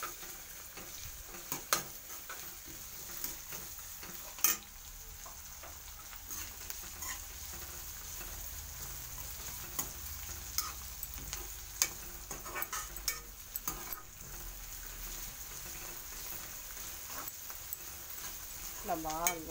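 Onions and curry leaves fry in a pan for a puffed-rice mixture, giving a faint, continuous sizzle broken by scattered scraping taps of stirring.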